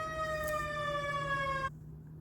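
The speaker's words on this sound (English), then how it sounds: "Sorry for the stupid siren." Emergency vehicle siren passing outside, a sustained wailing tone with rich harmonics, fairly loud, that cuts off abruptly near the end and leaves only faint background hum.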